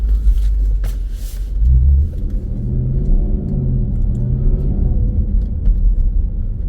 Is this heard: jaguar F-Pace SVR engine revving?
yes